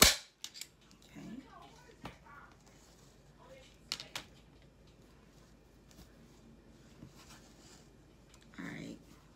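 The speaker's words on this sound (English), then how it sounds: "And then we're going to staple." Staple gun driving staples through fabric pulled taut over a DIY storage bench seat, several sharp close snaps spaced apart amid quiet rustling, with a brief voice in the background.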